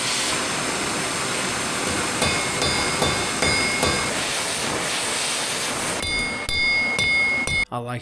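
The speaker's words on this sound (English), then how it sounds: "it's just heated up and hammered with a hammer" Heated steel is struck with a hammer on an anvil, heard as a series of sharp metallic clangs with ringing tones, spaced irregularly over a steady hissing background, near and fairly loud.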